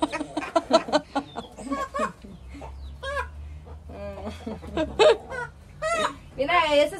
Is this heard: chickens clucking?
yes